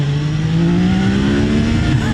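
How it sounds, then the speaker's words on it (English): 2025 Triumph Daytona 660 motorcycle, whose three-cylinder engine is shared with the Trident but retuned, revving loudly and steadily with a rising, buzzing engine note, heard close by without talk. "Star of the show, I think, is that engine. It's just so much fun."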